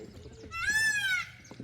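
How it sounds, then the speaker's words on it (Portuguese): A peacock gives one loud, drawn-out wail with a rising and falling pitch at an olive farm in Gramado, standing out briefly from quiet outdoor background noise. "um pavão gritou"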